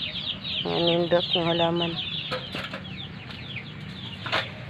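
Chickens clucking close by in short rhythmic bursts, with a few scattered calls and a brief voice speaking over them.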